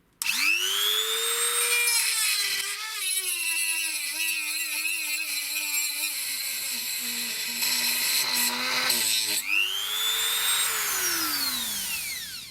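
A DrillPro die grinder fitted with a cutting wheel cuts into metal with a loud, sustained high-pitched whine that wavers and bogs under load, then spins back up freely near the end.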